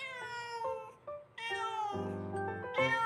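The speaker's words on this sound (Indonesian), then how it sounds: "Berkenalan dengan kucing ras asli Indonesia." A Kucing Busok, a native Indonesian cat breed, meows repeatedly in a close, clear series of drawn-out, tonal calls with brief pauses between them.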